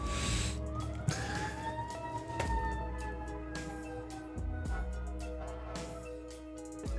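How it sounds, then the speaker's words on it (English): Sirens wail with rising and falling tones, passing at a moderate distance through the neighborhood amid low traffic rumble, fading slightly toward the end. "it's damn sirens, man. This neighborhood."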